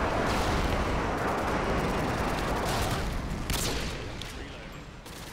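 Dense, continuous gunfire and explosions from Call of Duty Modern Warfare 2 gameplay fill the clip, loud and rapid with overlapping bursts that ease slightly toward the end.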